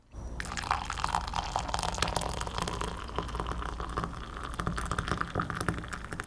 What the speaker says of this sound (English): let's pour a cup of percolated, still can't hold it, of percolated coffee